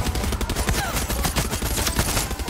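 Gunfire aimed at a gas tank in the video game Far Cry 6 comes as a loud, dense, rapid fusillade of shots. It rattles without pause for the whole stretch, close and sharp, with no talking.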